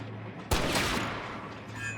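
A single sharp gunshot rings out in the turn-based western game Hard West 2, a sudden loud crack followed by a decaying rumble, with a low steady hum underneath and no other sound.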